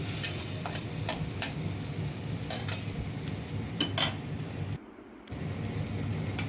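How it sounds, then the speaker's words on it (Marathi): Tomatoes with turmeric, red chili and homemade black masala stir-fried in a pan for moong dal, sounding as a continuous close sizzle with spatula scrapes, cut by a short silent gap near the end. "टमाटे हळद लाल तिखट घरचा काळा मसाला टाकून व्यवस्थित परतून घेणे"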